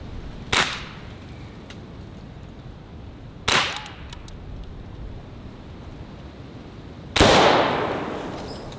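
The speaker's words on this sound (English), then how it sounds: "So my goal is to get an almost instantaneous primer strike and ignition of the powder." Three separate sharp cracks from a .50 caliber primer being struck and flashing the powder, spaced a few seconds apart over quiet outdoor background, the last blast louder and trailing off longer.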